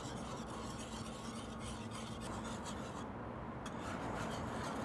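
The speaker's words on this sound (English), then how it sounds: "I'm gonna start adding just a handful of cheese at a time. We'll just constantly be whisking this in." Steady close whisking of cheese into simmering cream and beer, a continuous rough scraping and rubbing with a faint sizzle underneath, constant in level and free of talk.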